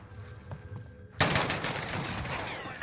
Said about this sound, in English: I got shot in the back.